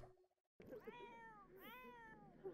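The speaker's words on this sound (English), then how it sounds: "And the cat is howling." A cat howls in The Sims 4 with two long, drawn-out meows that rise and fall, loud and close. A short, quiet tonal sound and a pause come before the first one.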